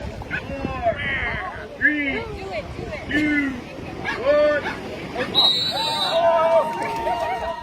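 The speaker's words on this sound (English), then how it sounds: "that is the sound of hundreds of people running into the cold Atlantic Ocean." Hundreds of people running into the cold Atlantic Ocean at a winter plunge event in Fenwick, a dense roar of crowd shouting, squeals and excited yelps, busy and continuous at middle distance.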